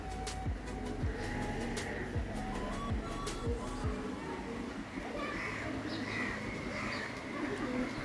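Pigeons cooing softly inside a pigeon house, low repeated coos under near-constant talk and household background noise.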